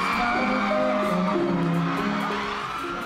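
Fans scream and cheer for a Korean actor and singer as he sings at his first fan meeting in the Philippines, a loud, sustained crowd roar with melodic singing and music riding through it.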